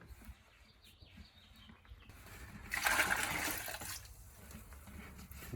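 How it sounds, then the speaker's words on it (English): Water poured from a tap or container to rinse gold contacts on old computer expansion cards, a faint background hiss that swells into a brief louder splashing gush for about a second before easing off. "Let's get some water and rinse it off."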